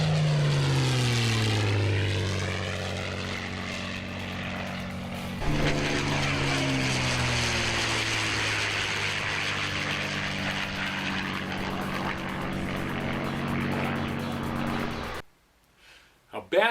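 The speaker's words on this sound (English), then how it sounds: "a P-51 flies by and everybody's hair stands up on the back of their neck" A P-51 Mustang propeller fighter roars past, its engine drone sweeping in pitch as it approaches and recedes, loud and sustained for about fifteen seconds before cutting off; a voice may be faintly present underneath.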